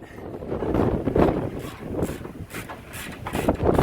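Strong wind buffets the microphone outdoors during an overland off-road trip in Georgia, a steady loud roar with gusty surges and broadband rumble throughout, no voices.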